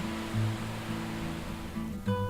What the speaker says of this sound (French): le son des vagues aura un effet apaisant immédiat